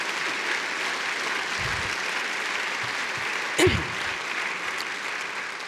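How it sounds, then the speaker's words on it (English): Audience applause at a justice lecture event, a steady moderate wash of clapping from a crowd with a brief louder knock partway through. "now you should do a round of applause for all of them"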